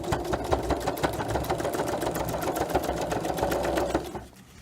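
Sewing machine running steadily, stitching along the top edge of a fabric RV awning scallop, a continuous rapid needle chatter that stops abruptly near the end.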